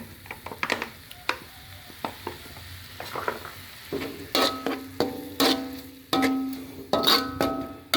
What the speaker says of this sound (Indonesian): Kita masak tumis sebentar hingga dia agak layu ya.